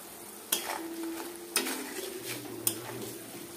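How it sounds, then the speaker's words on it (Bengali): A spoon stirs a spiced mixture with salt, turmeric and cumin powder for egg curry, giving three sharp scrapes or clinks against the pan over a soft, steady sizzle. "এবার এটাকে ভালো করে মিক্স করে নেব।"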